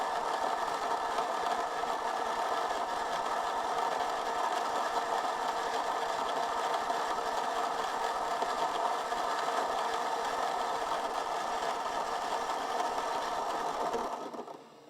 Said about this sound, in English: Now you can see it's moving over to the grinder.